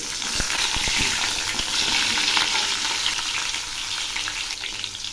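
Close, continuous sizzling and fine crackling of katla fish frying in mustard oil after being flipped, with a few soft clicks early on and no voices.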